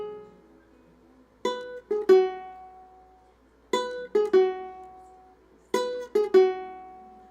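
Ukuleles in a community ukulele orchestra rehearsal pluck a dotted-eighth-and-sixteenth rhythm. Bright strummed chords come in short clustered bursts three times, with quiet gaps between, and no voices.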